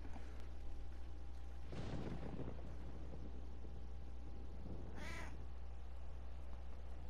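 A cat in Final Fantasy XIV: Endwalker meows twice, first a raspy cry, then a short clear meow, over quiet steady game ambience.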